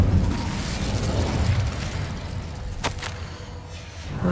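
The Incendio fire spell cast in the video game Hogwarts Legacy: a sustained roaring, whooshing burst of flame with one sharp crack partway through, heard alone without talk.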